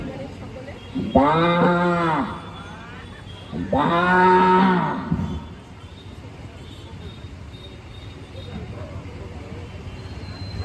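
A man imitates a cow with his mouth, giving two long, loud, throaty moos about a second and a half each, separated by a short pause, followed by quiet room tone.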